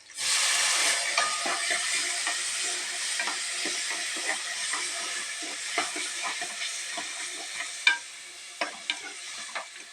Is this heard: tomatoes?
yes